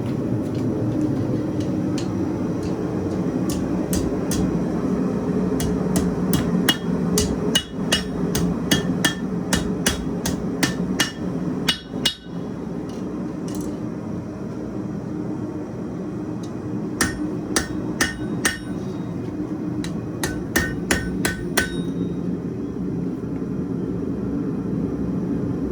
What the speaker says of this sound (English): Let's use the anvil.